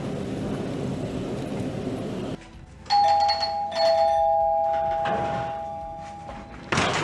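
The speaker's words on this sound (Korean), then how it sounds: "요시가 집 안으로 들어가자 초인종을 세차게 누르게 되죠." A house doorbell is pressed forcefully over and over, loud electronic chimes ringing in quick repeated bursts, with sustained tones overlapping and a muffled, noisy stretch before the ringing starts.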